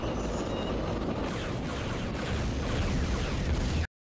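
Bombs detonate during a bombing run in the space strategy video game Star Wars: Empire at War, a steady rolling rumble of overlapping blasts that holds level for a few seconds and then cuts off abruptly.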